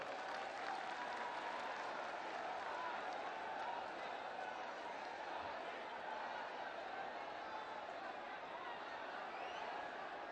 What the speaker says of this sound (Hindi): एक बार जोरदार तालियों के साथ आप स्वागत करें